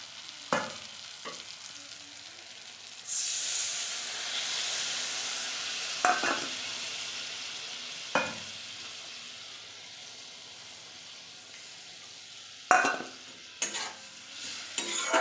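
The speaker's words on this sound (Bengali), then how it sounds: "মশলাটা আমি ভালো করে কষিয়ে নেব।" Ginger-cumin spice paste with turmeric fries in a pan with a steady soft sizzle, punctuated every few seconds by sharp scraping clinks of a spoon stirring against the metal.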